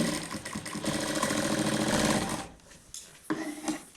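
A sewing machine stitching a round-neck front-button nighty, running as a steady, close mechanical whir for about two and a half seconds, then stopping and giving way to quieter handling noises.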